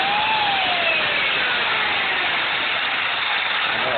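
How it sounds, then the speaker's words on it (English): A chainsaw runs continuously with a loud, harsh buzz, its whine dipping slightly in pitch as it bites into foam. "use a chainsaw to roughen the area up and give it some texture"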